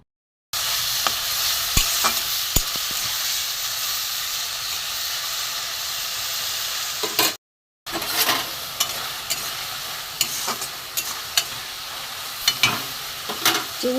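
Shrimp frying in a pan in a home kitchen, giving a loud, steady sizzle with a few sharp pops and clinks, cut by a brief silent gap before the frying resumes with more crackle.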